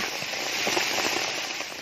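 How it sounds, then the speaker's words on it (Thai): Heavy rain pours steadily outdoors during a mushroom-foraging trip, a dense, constant hiss with scattered drop patter, close and fairly loud throughout, with no voices. "มาเห็นเห็ดตอนฝนตกจ้ะ ตอนนี้ก็ยังตกนักอยู่จ้ะ"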